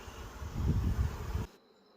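Honey bees reworking beeswax into cells across a ten-frame box give a dense, close hum that swells midway, then cuts off abruptly into near silence.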